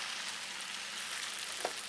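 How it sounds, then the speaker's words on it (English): Steady sizzling of spaghetti frying in a pan, a bright continuous crackle with no talking. "we want to fry this in the pan. Keep pressing and frying."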